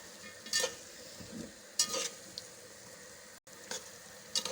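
Chopped vegetables including cauliflower are stirred and mixed in a pot for vegetable pulao, with a few separate scraping strokes and spoon knocks over a quiet background.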